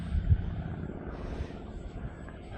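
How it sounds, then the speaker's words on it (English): A T7 model airplane with a broken wing flies in windy conditions, its engine a steady low drone mixed with rumbling wind buffeting the microphone. "With a broken wing, look how this thing flies."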